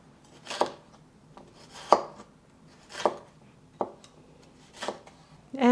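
A knife slices a red pepper into strips on a cutting board, producing five or six separate crisp cuts spaced about a second apart, close up and fairly quiet, with a brief voice at the end.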